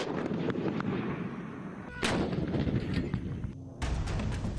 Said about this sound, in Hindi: इस लाइव फायर ड्रिल में चीनी तोप, टैंक और मिसाइलों का इस्तेमाल किया जा रहा है।